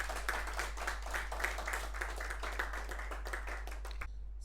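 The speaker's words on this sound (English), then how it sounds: "Can you please give yourselves a round of applause for attending?" A studio talk-show audience applauds themselves at the close of an episode, a dense, steady wash of many hands clapping at moderate distance over a low electrical hum, cutting off abruptly near the end.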